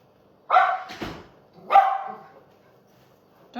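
A dog barks twice, about a second apart, loud and close with sharp harmonic yelps, followed by quiet, in an indoor crafting setting.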